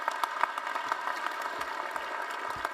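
At a university graduation ceremony, the audience gives a sustained round of applause that sounds like a soft, even patter of many hands in a large hall, with a few sharper nearby claps standing out.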